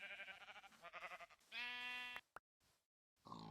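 Sheep bleat in the early alpha version of Minecraft, a run of quick choppy bleats followed by one long wavering bleat, then a short click and a brief return of sound after near silence.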